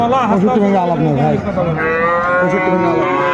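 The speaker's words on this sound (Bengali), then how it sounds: "ষাঁড় বাচ্চা, শাহিওয়ালের বাচ্চা, কোয়ালিটি সম্পন্ন বাচ্চাগুলো।" Sahiwal bull calves lowing at a busy cattle market, a run of loud, drawn-out moos close by and overlapping, with crowd chatter and voices in the background.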